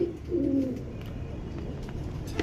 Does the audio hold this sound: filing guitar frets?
no